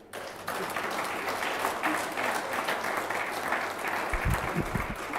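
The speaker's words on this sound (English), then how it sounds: "I want a very, very big round of applause to my panelists." An audience at a global health research and innovation conference session applauds the panelists, a steady, full round of clapping that lasts several seconds before a low thump near the end.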